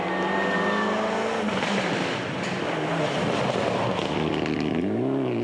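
A Mitsubishi Lancer Evo 5 rally car drives a stage at the 2003 Baie des Chaleurs rally, its engine roaring loud and close with rising and falling revs through gear changes and no speech.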